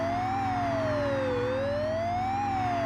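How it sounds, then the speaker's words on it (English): A police car siren in the Amiga game Test Drive II: The Duel wails in slow rising and falling sweeps, loud and continuous over a droning engine hum. "There's that police car."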